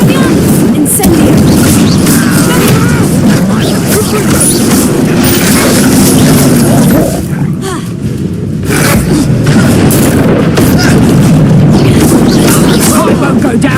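Spell blasts and explosions in the video game Hogwarts Legacy, a dense, loud barrage of booms and crashes rumbling continuously with a voice shouting over it.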